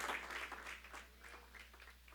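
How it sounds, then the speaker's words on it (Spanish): A church congregation claps, brief and fairly faint, a soft patter of hands over a low steady hum. "dale un aplauso al Señor"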